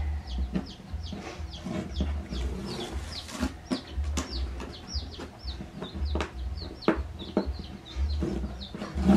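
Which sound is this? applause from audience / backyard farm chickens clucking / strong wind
backyard farm chickens clucking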